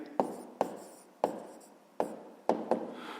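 A pen writing out a fifth-grade math answer on paper, six crisp strokes and taps at irregular intervals, close and clear with quiet pauses between.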